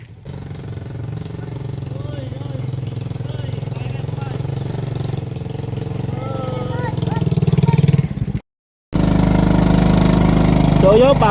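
Motorcycle engine running steadily on a rough rural road to a farm in Mindanao, a loud continuous drone with a brief cut near the end, while people talk over it.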